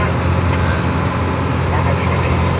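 Hino 500 dump truck engine running steadily as it shifts into third gear on a dirt mountain road, loud continuous drone with someone talking over it.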